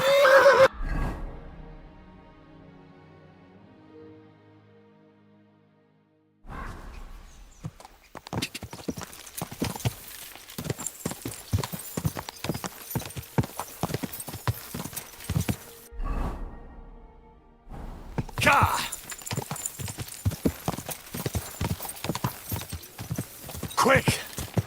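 A horse in the medieval game Kingdom Come Deliverance 2 whinnies at the start, then its hooves clip-clop in a steady, close, brisk rhythm that pauses briefly before resuming.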